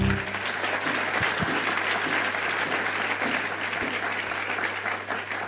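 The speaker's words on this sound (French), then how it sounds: "On peut l'acclamer, pourquoi pas?" A church congregation claps together after a prayer, giving sustained, dense applause from a large crowd that fills the room evenly for several seconds, with no speech over it.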